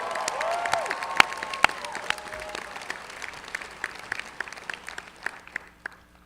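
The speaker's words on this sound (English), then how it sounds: "Let's give them a big round of applause as well." An audience at a university baccalaureate ceremony applauds for the graduates' families, dense clapping from a large crowd that starts loud and slowly thins out, with scattered individual claps toward the end.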